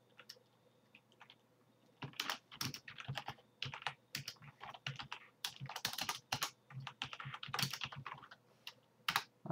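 Fingers type on a computer keyboard in irregular bursts of close, crisp key clicks, entering a program name in GW-BASIC, alone with no talking.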